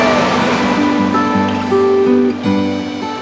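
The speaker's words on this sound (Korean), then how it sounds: "시원한 소리를 내는 작은 폭포." Small waterfall beside a rural house, fed by water running down from a mountaintop: steady, loud rushing water throughout, with tonal hum and some background sound layered over it.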